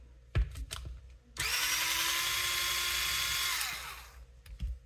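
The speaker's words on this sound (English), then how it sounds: "While I've got the 2mm driver on here, I'm going to go ahead and remove these 4 screws." A 2mm power driver spins out screws from an RC truck in one continuous whining burst of about three seconds, bracketed by light clicks and taps of handling up close.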